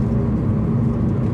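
Deep growling engine of a 2017 Opel Corsa OPC, 207 hp, a steady low rumble at constant revs, loud and close with no speech.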